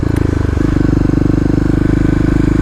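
A fuel-injected Kawasaki KLX351 motorcycle engine runs steadily with a loud, rapid, even thumping beat that lifts slightly in pitch partway through, with no talk over it.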